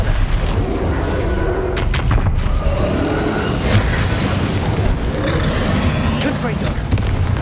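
Bombarda blasting-spell explosions in the video game Hogwarts Legacy: loud booming bursts and crackles amid dense, continuous combat noise, with a voice speaking over the action.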